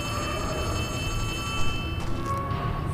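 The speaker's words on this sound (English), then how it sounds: "And then we get phone rings." A telephone rings in the horror game Poppy Playtime Chapter 3, a steady electronic ring over a humming ambient drone, moderately loud, with no voices.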